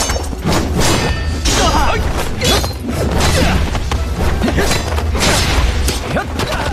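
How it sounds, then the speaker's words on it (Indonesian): An explosion set off as a diversion in an animated martial-arts story, a dense, loud wash of crashing, booming and thudding debris that fills the whole stretch without pause. "Lindong menciptakan sebuah ledakan sebagai pengalihan agar ia bisa melarikan diri"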